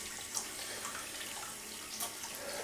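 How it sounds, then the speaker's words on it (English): A tap runs softly at a bathroom sink as hands are rinsed after a shave, a faint steady hiss broken by a couple of small splashes. "I'm gonna rinse my hands."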